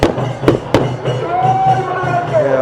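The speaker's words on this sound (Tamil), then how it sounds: "வானவெடிக்கை வெடிக்க ஸ்டார்ட் பண்ணிட்டாங்க பாருங்களேன்" Fireworks burst at a Murugan temple festival in Vellore, held for the temple's consecration ceremony. Two sharp, loud bangs come close together near the start, over a steady murmur of crowd noise.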